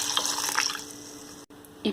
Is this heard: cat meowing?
no